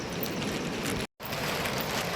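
Rain falls steadily on a village, a dense even hiss of drops close by that cuts out for a split second in the middle and then resumes unchanged.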